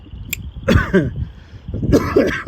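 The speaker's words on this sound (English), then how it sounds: "sorry about my coughing." Two rough coughing fits, each a short cluster of harsh coughs, heard up close with a brief pause between them.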